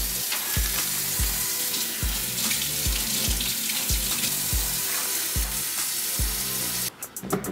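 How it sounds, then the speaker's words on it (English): Tap water runs steadily into a sink as catfish fillets are rinsed, a close, continuous splashing rush with repeated soft thumps underneath, briefly broken near the end. "Give them a good rinse."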